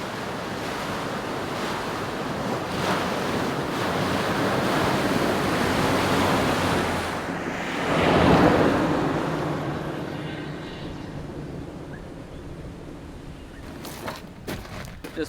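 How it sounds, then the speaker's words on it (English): A small waterfall tumbling beside a creek near the Laura River, Cape York, giving a steady, broad rushing wash that holds for the whole stretch, with a brief louder surge partway through and a few faint knocks near the end. "It's a beautiful little waterfall and that there."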